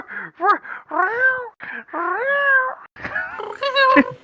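A person mimics a cat, letting out a rapid string of drawn-out, wavering meows and yowls, close and fairly loud.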